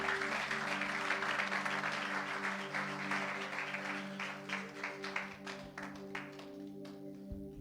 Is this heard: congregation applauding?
yes